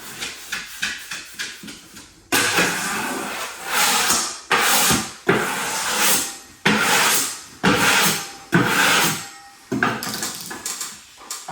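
Excess wallpaper being trimmed at the top around a door: a series of repeated scraping, rasping strokes, each about a second long, close by with short pauses between, no talking.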